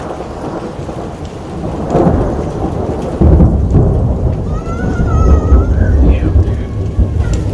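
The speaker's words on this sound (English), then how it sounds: "I can see the hail now. Oh, you see that? Yeah, that one's gonna be loud." A thunderstorm with hail in Italy: loud rolling thunder rumbles over steady heavy rain and pelting hail, close and continuous, while someone briefly speaks partway through.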